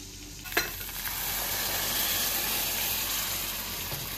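Ground coconut, peanut and green chili paste dropped into a hot pan for a fasting amti, one soft thump followed by a steady, quiet sizzle and hiss, no talk.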